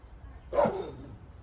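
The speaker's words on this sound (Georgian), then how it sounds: "ძაღლები აქეთ არიან" A single dog bark at a countryside summer cottage where children play, fairly close and loud against a quiet background, with no talk.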